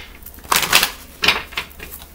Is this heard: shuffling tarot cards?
yes